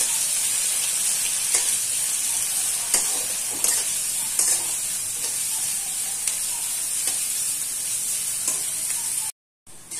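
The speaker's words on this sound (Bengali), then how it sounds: "সবজিটা ভালো করে ফ্রাই হয়ে গিয়েছে" Vegetables sizzling and frying in a pan for Maggi noodles, a steady close hiss with occasional stirring scrapes, ending in a brief cut.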